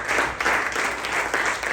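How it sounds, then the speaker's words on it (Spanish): A church congregation applauds God together in a dense, steady burst of clapping that fills the space, loud and close throughout. "Dale fuerte palmas a Dios."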